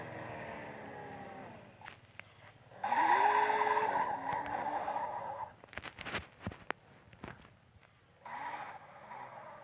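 In the Car Parking Multiplayer video game, a Nissan Skyline's tires screech in a drift, a loud whine lasting about a second, among engine hum and scattered clicks, then a shorter skid follows near the end.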